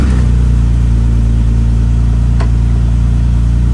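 A loud, close engine runs with a steady low drone after starting up. The drone holds even, more like a fast idle than sharp revving, with no talking over it.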